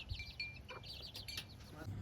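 Chickens cluck and chirp softly at a distance, with a few sharper calls and a faint voice in the background.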